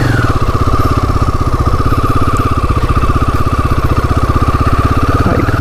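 A Royal Enfield Himalayan 450 motorcycle engine runs at a loud, close idle, its even, rapid thumping pulse holding steady throughout, with a brief squeal near the end.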